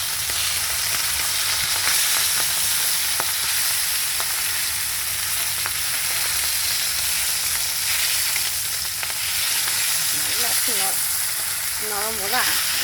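Bhola fish fried a few pieces at a time in a pan makes a loud, dense, continuous sizzle with occasional spatter crackles, and a few faint warbling tones come in near the end.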